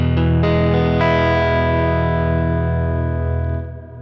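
An electric guitar played through a Sonicake Matribox reverb with vibrato rings out loud, a few struck chords swelling into a long shimmering, wavering tail that slowly fades.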